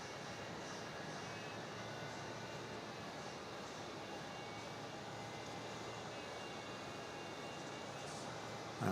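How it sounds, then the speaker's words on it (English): An Airbus A220 jet airliner taxiing at Melbourne Airport at night, heard as a steady, distant engine roar and broadband hiss that holds constant throughout, with no speech. "Is that a 220 that just rolled in?"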